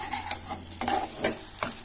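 Wild taro leaf mixture stirred in a pan, with close, rhythmic scraping strokes over a soft sizzle, roughly four sweeps in quick succession.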